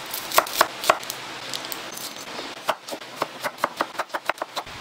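Red onion chopped on a cutting board, a close knife tapping in a few scattered strokes at first, then a faster, steady run of crisp chops.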